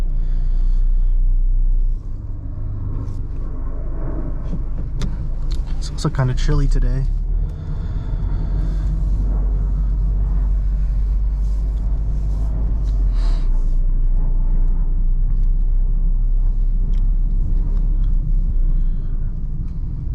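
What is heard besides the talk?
2016 Mazda MX-5 Miata driving on back roads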